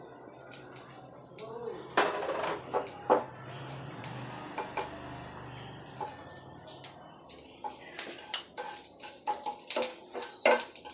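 Whole spices (bay leaves, shahi jeera, small and large cardamom, cloves) tipped into hot oil in a kadai, giving scattered light crackles and clinks of metal utensils, with a faint sizzle and occasional stirring scrapes at moderate volume.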